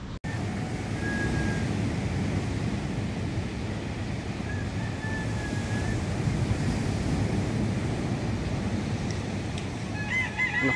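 Ocean waves splashing, a continuous loud wash of surf with wind, steady throughout after a brief bump at the start, with a few faint thin tones above.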